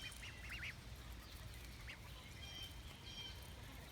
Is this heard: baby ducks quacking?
yes